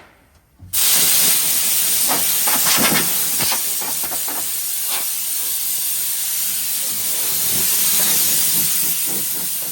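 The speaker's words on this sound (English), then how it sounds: "we're doing some precision spraying here" A loud, continuous hiss of an aerosol spray paint can starts abruptly after a moment of quiet and holds steady while painting a VL Commodore boot floor, with faint clicks and rattles underneath.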